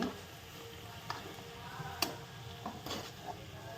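A spoon stirs grated fresh coconut and milk in a pan, soft scraping with a few sharp clicks and taps at irregular intervals, quiet and close.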